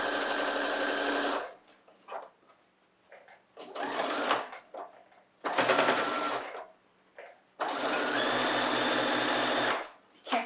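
Sewing machine stitching a fabric face mask with ear ties, filter pocket and nose wire. Four loud, steady runs of rapid needle whirring, separated by short quiet pauses with light handling noises.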